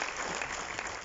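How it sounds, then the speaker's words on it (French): Steady applause from a crowd at a roadworks launch ceremony in Cascavelle, Mauritius, dense continuous clapping throughout the short moment. "pourquoi il mérite un grand applaudissement"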